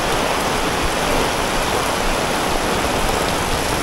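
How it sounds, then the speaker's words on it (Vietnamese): A downpour roars at a Nha Trang market, thick and unbroken, with water spattering hard all around at close range and no voices cutting through the wash. "trời ơi mưa không thấy đường đi luôn cả nhà, mình đi bộ nhưng mà vẫn ướt nha"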